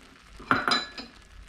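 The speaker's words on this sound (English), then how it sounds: "We're gonna stir the rice." A spoon clinks and scrapes against a metal pot while Mexican rice is stirred, with two or three sharp close metallic knocks in quick succession over a faint background hiss.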